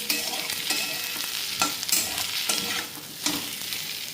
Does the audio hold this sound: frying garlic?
yes